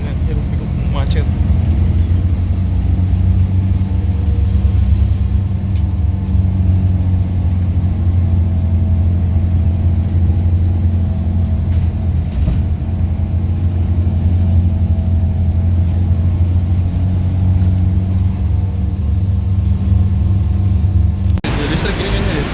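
Jakarta traffic jam: a dense, continuous rumble of idling and creeping car engines with occasional revs, loud and close throughout, ending abruptly.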